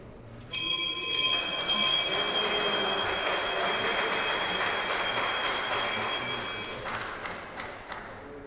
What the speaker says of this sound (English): Always a fun moment for the guests to ring the bell here.